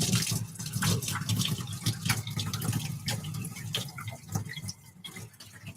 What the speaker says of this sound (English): grab the water and start filling the tank back up